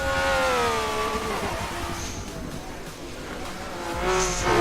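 A Lamborghini Aventador SV races down a straight into a chicane on the Dubai City Circuit, its loud V12 engine note rising and falling through shifts, with a brief tire squeal and the engine swelling again at the end.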